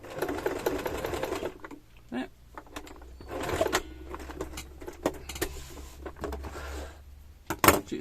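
Sewing machine stitching fabric for a children's mouse bag, in bursts of rapid mechanical whirring separated by short pauses and clicks as the fabric is turned at corners, close and fairly quiet.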